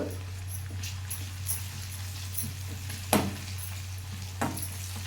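Ginger garlic paste sizzles softly and steadily in a hot pan while a spoon stirs it, with occasional sharp clinks over a constant low hum.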